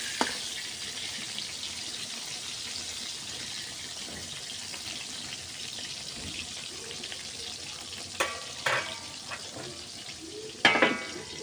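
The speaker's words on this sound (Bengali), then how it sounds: "বেগুনগুলো ভেজে নিচ্ছি।" Eggplant slices frying in a pan in a home kitchen, a steady close hiss of sizzling oil throughout, with a few soft clinks of a utensil near the end.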